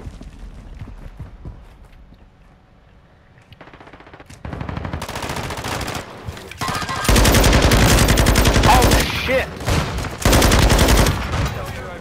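Gunfire in a multiplayer shooter video game, starting with quiet footsteps and movement, then rising into loud, dense rapid-fire bursts that dominate the second half.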